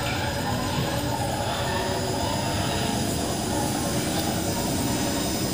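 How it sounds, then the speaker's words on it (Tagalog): An LG dual inverter air conditioner compressor runs steadily, a continuous loud mechanical drone with a broad low rumble and constant hiss, no pauses across the stretch. "maririnig yung maandar na yung compressor natin"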